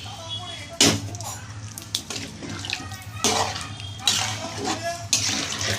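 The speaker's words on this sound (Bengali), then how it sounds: "এবার আমি এই জলটা দিয়ে দিলাম।" Water poured into a pan of fried spices while cooking a vegetarian dish of small whole potatoes and green peas, with several splashing bursts over a steady low background hum.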